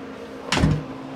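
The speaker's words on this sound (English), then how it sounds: "They just closed the door on Pat" A door is pushed shut with a single short, muffled thud and brief rattle, heard nearby against a low steady room hum.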